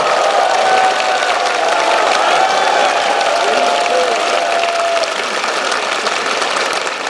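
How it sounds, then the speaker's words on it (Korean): Loud, sustained audience applause and clapping fill a political talk concert in Daegu, steady and dense for several seconds and easing slightly near the end. "우리 김철근 실장님 여기 앞에 앉아 계시지만은 박수 한번 주십시오."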